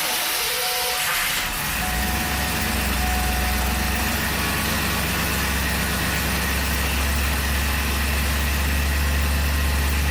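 A Ford Bronco engine idling, a deep, steady rumble, close and loud, with a low droning hum that holds even throughout with no talking.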